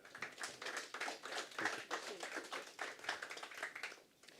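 Seminar audience claps briefly, a faint, quiet patter of hands from a modest crowd in a conference room, with uneven rhythmic bursts over a few seconds.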